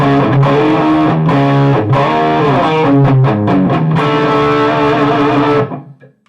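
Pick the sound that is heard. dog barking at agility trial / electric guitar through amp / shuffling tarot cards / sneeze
electric guitar through amp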